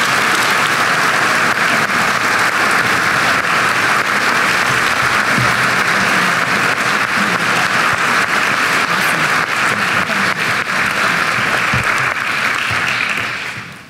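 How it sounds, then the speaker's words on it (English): Sustained applause from a graduation audience at a school ceremony, a loud, dense roar of clapping held evenly for many seconds before dropping off sharply at the very end. "Please join me in another round of applause for class of 1994, Molly Levinson."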